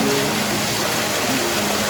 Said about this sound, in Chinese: 小瀑布